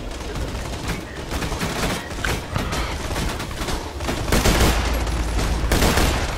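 Sustained gunfire in Borderlands 2 during an arena slaughterhouse round: dense, continuous rapid shots with mechanical clatter and booms, loud and close, swelling toward the end.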